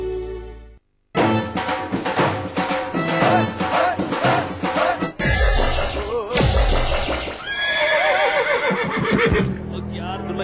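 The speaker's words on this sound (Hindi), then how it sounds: "यार पता नहीं घोड़े को क्या हो गया।" Horse neighing loudly and repeatedly, with scraping and clopping hooves mixed into a busy, dense soundtrack.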